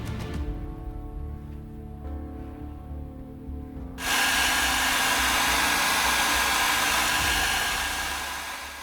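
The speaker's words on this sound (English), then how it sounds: "And after drying with a hairdryer," A hair dryer drying weathering pigments on a 1/35 scale tank model roars on abruptly partway through, a loud steady broadband blowing that holds for several seconds after a quieter stretch of low hum.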